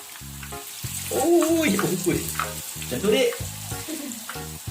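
Food fried in a pan with its leaf wrapping opened to crisp up sizzles steadily and loudly throughout, while a person speaks briefly over the crackle.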